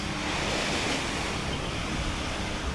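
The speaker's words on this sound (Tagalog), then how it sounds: "Ang galaw ng dagat." Sea waves at high tide wash in as a dense, steady roar of surf, loud and close, with no talk over it.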